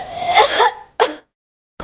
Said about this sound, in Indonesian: Batuk mulu, cepat minum.